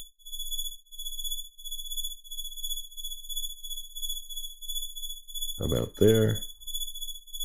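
Synthesized cricket chirps made with free modules in VCV Rack, a steady high electronic tone pattern pulsing continuously, with someone briefly speaking over it near the end.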